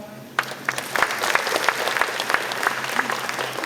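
Audience applause welcomes a speaker to the stage at a county 2040 vision proclamation ceremony in Cheongdo, starting suddenly after a brief quiet moment and continuing as a lively patter of claps.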